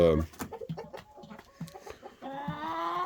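Roosters and hens cluck in a winter hen house, with short choppy clucks and squawks up close, then a drawn-out crowing call rising near the end.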